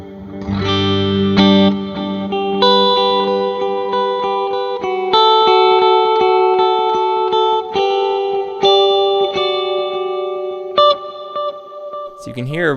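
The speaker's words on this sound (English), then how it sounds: "So you can hear the reverb and the delay both in there." Guitar through a Dispatch Master delay and Disaster Transport SR pedals, heavy delay and reverb, notes repeating and washing into a lingering echoing tail; continuous playing, fairly loud, ending in a swirling pitch sweep.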